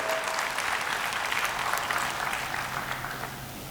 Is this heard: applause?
yes